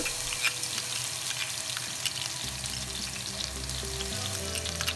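Chopped garlic frying in hot oil in a wok, for a black pepper shrimp dish, sizzles loudly and continuously up close, with a low hum underneath.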